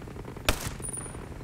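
A single sharp gunshot crack in a video game (Ghost Recon Breakpoint) rings out, followed by a short echoing tail, moderately loud over a low background hum.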